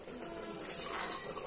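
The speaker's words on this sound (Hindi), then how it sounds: "अब हम इसमें पानी डालेंगे, पानी हम जितने चावल लिए उसका डबल पानी डालेंगे" Water poured from a glass into a pot of rice for pulao, twice the volume of the rice, giving a steady close splashing gush with no talk.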